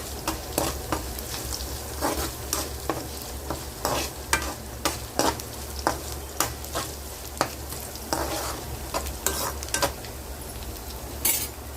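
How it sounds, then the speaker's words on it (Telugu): A tempering with turmeric for a cabbage fry sizzles steadily in a pan while a spoon stirs it, with frequent scraping clinks over the constant close frying hiss and no speech. "దీంట్లోనే మనము కొంచెం పసుపు వేసుకోవాలండి."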